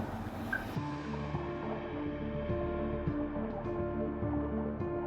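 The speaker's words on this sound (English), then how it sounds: "Just the sound of an engine" An outboard motor on a boat chugs steadily with a low, even engine drone and faint water sounds, continuous and fairly quiet throughout, with no talk.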